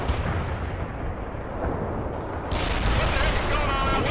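Tank shells fire in the World in Conflict: Soviet Assault battle game with heavy booming blasts over a constant dense rumble of combat noise, growing louder and brighter partway through.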